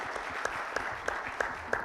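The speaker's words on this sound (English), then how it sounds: "So I would like everyone to give a big round of applause to the four wonderful presenters." An audience at a morning conference session clapping for four presenters, a steady, even round of applause with a few sharper individual claps standing out.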